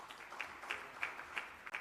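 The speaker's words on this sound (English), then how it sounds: "Mr. Boniface Okezie, shall we give a round of applause for him again?" Applause from the audience at the Nigerian Breweries annual general meeting, a soft, steady patter of clapping that stays fairly faint and even throughout the short stretch, with no talk over it.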